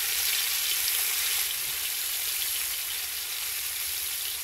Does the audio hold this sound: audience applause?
no